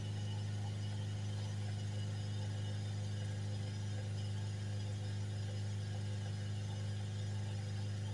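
A Ford Transit Custom 2.2 diesel engine held at a steady 3000 RPM during DPF cleaning, giving a constant, unbroken low drone with a faint whir above it and no change in pitch throughout.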